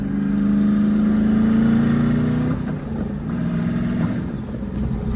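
A loud Ford Mustang engine roars and revs up in pitch, dips briefly, then climbs again in a steady throaty drone, close by with no voices.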